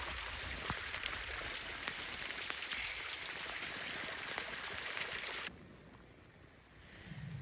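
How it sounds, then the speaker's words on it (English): Heavy downpour in hill-country woods, a steady dense hiss of rain drumming on leaves and ground, loud and close, then dropping to a softer patter near the end. "Absolute downpour."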